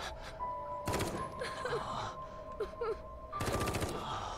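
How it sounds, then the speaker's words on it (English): Gunfire in the survival horror game The Evil Within 2, two loud bursts of shots at the start and end with eerie tonal game ambience and thuds in between, no talking. "She's shooting a gun out of her brain."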